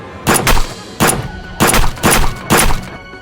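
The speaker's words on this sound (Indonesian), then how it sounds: "menembak mati para preman" Five sharp gunshots from an action film, fired in an irregular cluster, loud and close with brief reverberant tails and no talk over them.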